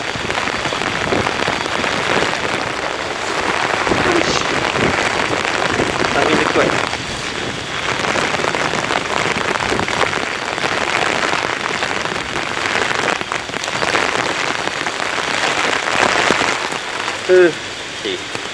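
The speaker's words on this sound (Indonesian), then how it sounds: "Hujan lebat." Heavy rain pouring steadily and loudly on a surface, a dense continuous hiss throughout with a faint clunk near the end.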